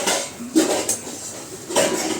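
Frying potatoes are stirred in a pot, a utensil scraping and clinking against the metal in a few light, close knocks over a quiet background.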